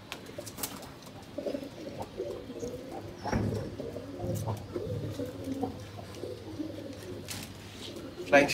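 Pigeons in a loft give soft, low, intermittent cooing, faint and close, with some quiet rustling and shuffling between the calls.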